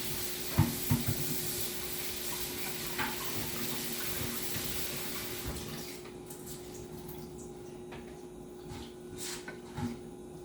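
A kitchen tap runs steadily while kale is rinsed, a broad hiss of flowing water with a few clinks and splashes, and the water stops partway, leaving quieter rustling and handling sounds.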